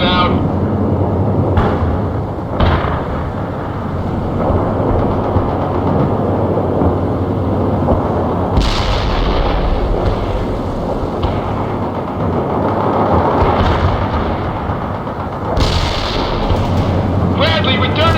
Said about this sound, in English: Bradley returning fire